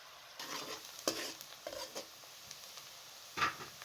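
Onions going into hot cooking oil in a kadai, giving soft sizzling and frying crackle with intermittent stirring scrapes and clinks, quiet and close, no talk.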